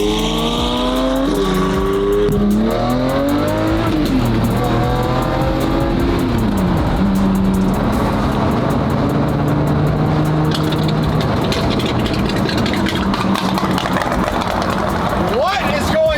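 Loud car engine revving hard and shifting through repeated rising pitch sweeps, close by, with excited voices talking over it throughout.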